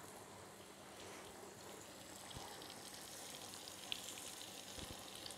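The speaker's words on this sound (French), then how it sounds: "Et là, on plonge nos suprêmes dans du beurre." Chicken suprêmes frying in butter in a pan, a soft steady sizzle with light crackle running throughout, fairly quiet and close, with no talk.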